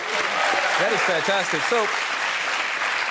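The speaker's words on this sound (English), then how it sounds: "A round of applause for that." Studio audience at a celebrity talk show interview applauds in a continuous wash of clapping while two people keep talking over it.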